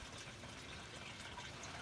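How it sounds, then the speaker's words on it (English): Water draining into a marina on Cook's Bay in late November, a faint, steady hiss and trickle of running water heard alone at a distance. "That's water draining into this area of this marina."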